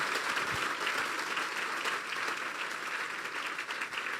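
Congregation at a New Year church sermon applauding, a dense, steady wash of many hands clapping that holds for the full stretch without letting up.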